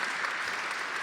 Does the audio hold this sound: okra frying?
no